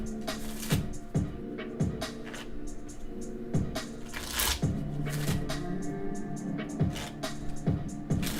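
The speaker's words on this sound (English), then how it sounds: "Simone, I'll pull a card for you." Tarot cards being shuffled by hand, a series of crisp riffling bursts and soft taps repeating at an irregular pace, close and clear with no voices.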